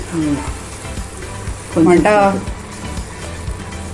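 Ghee sizzles and crackles in a pan of sweet pongal made with rice and jaggery, a steady close frying hiss that swells briefly midway, while a person speaks over it.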